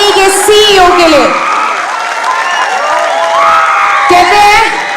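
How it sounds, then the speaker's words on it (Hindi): A large audience at a company event claps loudly for the company CEO and MD, with sustained applause, cheering and whoops. A voice sings or calls out over the clapping. "दोनों हाथ ऊपर करके जोरदार तालियां हो जाए"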